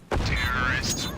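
A grenade goes off in a competitive multiplayer shooter round: a sudden loud blast that stays dense and sustained for about a second.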